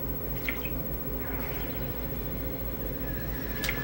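Water drips in the Clock Tower 3 video game, a few faint, sparse plinks over a steady low background rumble.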